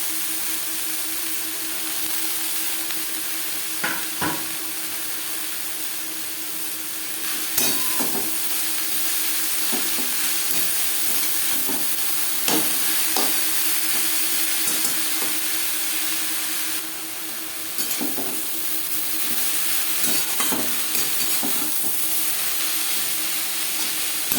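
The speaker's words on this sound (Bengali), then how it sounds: "পেঁয়াজের সাথে ডাটার শাক বেশ ভালো করে মিক্স করে দেবো" Stems and leafy greens (data shak) stir-fried with onion in a hot pan give a steady loud sizzle and hiss, broken by repeated scraping and clacking spatula strokes at an uneven rhythm, with no voices.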